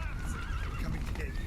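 Horse neighing and whinnying in The Witcher 3 video game, loud and close with hoof clip-clop and game ambience, while a person talks over it.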